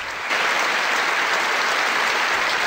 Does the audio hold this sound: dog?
no